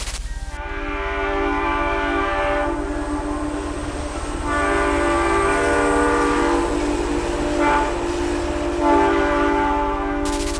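A train rumbles past on tracks beneath a bridge, its long, loud horn sounding in several sustained blasts over the rolling clatter of the cars.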